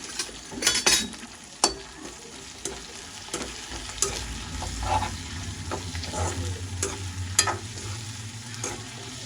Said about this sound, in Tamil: வெங்காயம், கருவேப்பிலை, உள்ளி, பச்சை மிளகாய் அப்படி வதக்குவோம்